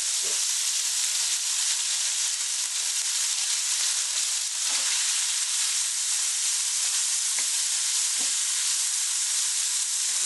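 Udon noodles sizzle and fry steadily in a pan while being stirred, a loud continuous hiss with occasional soft scrapes and clicks and no talking.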